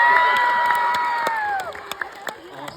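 Live show audience at a cast Q&A erupting in loud sustained cheering, whoops and clapping from a crowd of fans, holding steady then thinning out into scattered claps and shouts toward the end.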